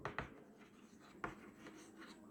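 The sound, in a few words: writing during a lecture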